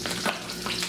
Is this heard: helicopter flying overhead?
no